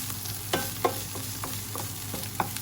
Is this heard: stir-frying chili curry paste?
yes